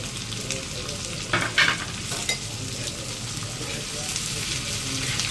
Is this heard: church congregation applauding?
no